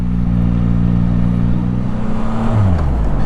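A 2022 Yamaha MT-09 motorcycle being ridden, its engine droning loud and close at a steady pitch, then dropping in pitch as the bike slows near the end, with wind noise and no speech.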